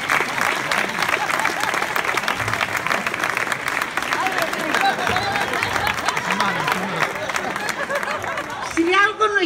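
An audience applauds after a festival committee presentation in Beniardà, steady sustained clapping from a crowd that fills the room, with some chatter mixed in.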